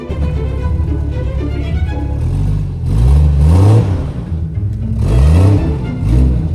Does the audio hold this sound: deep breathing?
no